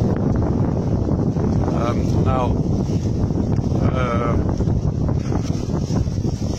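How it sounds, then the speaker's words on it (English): Wind at about 16 knots blows across a sailboat at sea, producing loud, constant buffeting rush over the microphone, with a couple of faint muffled voice-like tones in the middle. "wind is picking up 16 knots now"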